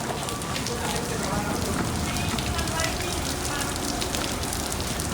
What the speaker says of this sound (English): Looks like it's pouring rain.